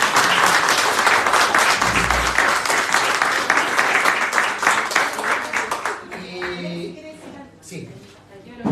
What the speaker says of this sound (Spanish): Fernanda se merece un gran aplauso